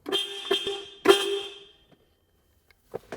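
A Volkswagen Beetle horn with a previously faulty, uncontrolled horn gives several short honks in quick succession, the third one longer, then pauses before another brief toot near the end.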